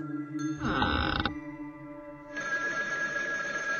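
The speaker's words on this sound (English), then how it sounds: "The phone line's been cut, but it's still ringing." In the video game Paper Bride 5, an old telephone bell rings in a short metallic burst, followed by a sustained electronic tone, loud and clear with no talking.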